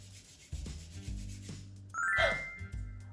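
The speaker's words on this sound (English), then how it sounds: "Put your hands together and let's rub them like this." Palms rubbing together in a quick back-and-forth, giving soft close swishing friction over a low steady musical backing, with a bright sparkly chime rising in the middle.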